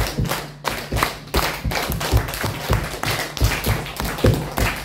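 A group claps hands in a counted rhythm during a school ice-breaking game, dense sharp claps repeating in quick patterned bursts, loud and close with many hands together.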